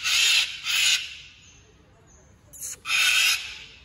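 A yellow-crowned amazon parrot gives three loud, harsh screeching calls nearby, each about half a second long, with a quiet gap between the second and third.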